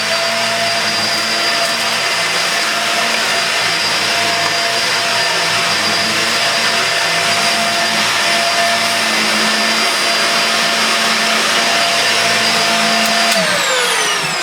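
A Dyson DC50 vacuum cleaner runs loud and steady at close range, a constant whining motor hum with airy rush that dips in pitch briefly near the end.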